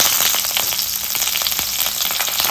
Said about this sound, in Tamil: அடுப்பை ஸ்லோ பண்ணி ரெண்டுத்தையும் கொஞ்சம் லைட்டாக கிளறி விட்டுருவோம் எண்ணெயில்